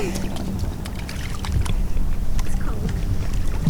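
Oars working a small rowboat on open water, with steady splashing and wash close by, wind buffeting the microphone, and people talking at times over it.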